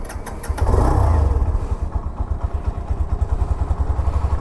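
A Hero Xtreme 125R motorcycle starts and settles into a close, steady idle from its small exhaust, a rapid low thumping pulse that stays even after the initial start-up.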